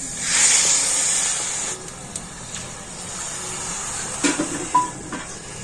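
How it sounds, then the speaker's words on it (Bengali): Water poured into a pan of raw mango pieces for mango jelly, a loud hissing rush at the start that settles into a steady hiss with a few soft knocks. "এই আমটা আমি কড়াতে দিয়ে দিচ্ছি আর ওই আমের মধ্যে দিয়ে দেবো জল"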